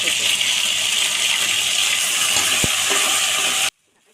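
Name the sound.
frying and stirring chicken biryani masala in a pan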